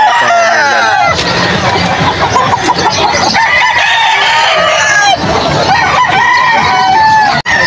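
Chickens cluck and crow in a noisy, crowded poultry market in Bocaue, Bulacan on a rainy day, with a steady babble of voices and bird calls overlapping throughout.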